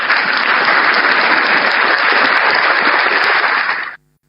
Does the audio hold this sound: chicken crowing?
no